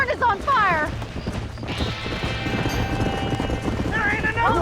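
Horses in a burning barn in the video game Red Dead Redemption whinny loudly at the start and end while hooves clatter in a busy clip-clop through the middle, with shouting voices mixed underneath.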